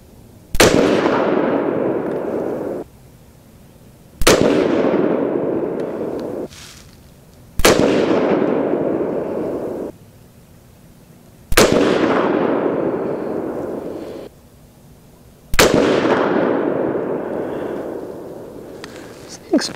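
Five loud gunshots from a custom Grey Ghost AR10 .308 gas rifle firing handloaded rounds at a range, evenly spaced a few seconds apart, each a sharp crack followed by a long decaying boom and echo.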